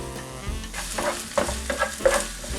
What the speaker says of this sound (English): We're gonna add our onions.